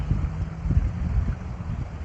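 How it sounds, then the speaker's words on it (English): Wind gusting outdoors and buffeting the microphone with a steady low rumble, loud and close, with no talk. "it's windy out here"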